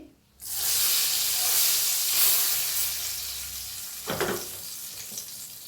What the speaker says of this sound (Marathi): आता ह्याच्यावर फोडणी ओतूया